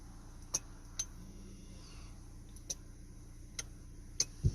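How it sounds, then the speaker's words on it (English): Electronic parking brake motors on a Mazda CX-9 engaging, heard as a series of about six sharp, faint clicks at uneven intervals over a quiet low hum, closing with a slightly heavier knock. "you can hear the motors pull in, and you hear the motors release"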